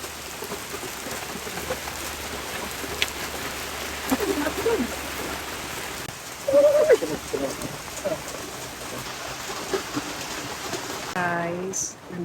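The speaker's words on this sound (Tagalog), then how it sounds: "Basang-basa na po kami ng ulan." Heavy rain pours steadily onto a surface throughout, with faint bird calls and brief voices breaking through in the middle and near the end.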